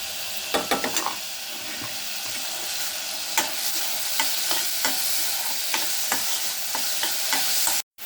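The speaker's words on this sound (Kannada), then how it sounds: "ಸಣ್ಣದಾಗಿ ಹೆಚ್ಚಿದ ಟೊಮೆಟೊ ಹಾಕ್ತಾಯಿದ್ದೀನಿ" Finely chopped tomato fries in a pan for ragda chaat, a close, continuous sizzle broken by repeated scraping stirs at an irregular rhythm, ending abruptly.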